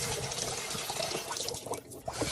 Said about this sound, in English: Rinse and pour it out again.